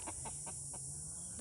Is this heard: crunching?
no